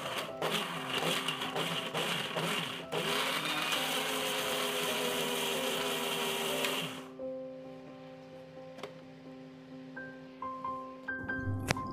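A mixer grinder pulses garlic with a little water in the jar, a loud whirring grind for several seconds with choppy bursts, then stops abruptly, leaving faint clatter and hum.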